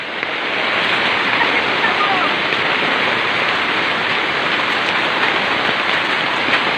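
Hail pours down in Kidapawan, North Cotabato, a dense, steady hiss of countless ice pellets striking surfaces, loud and unbroken throughout while people talk excitedly over it.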